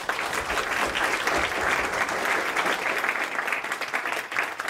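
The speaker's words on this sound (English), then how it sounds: "let's give a warm round of applause to Professor Yoshihara" Attendees at a Naval War College lecture give a warm, full round of clapping to welcome Professor Yoshihara, a thick, continuous roomful of applause with slight swells in intensity.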